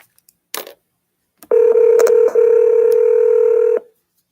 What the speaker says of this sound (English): Gwen, I'm calling you, doll.